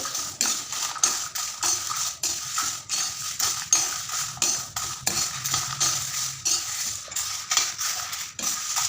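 Curry leaves and small shallots are stirred as they fry in a pan, with frequent light metallic scrapes and clinks of a spoon against the pan in a steady, uneven rhythm.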